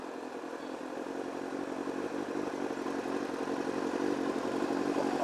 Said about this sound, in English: I love the sound of sport bikes.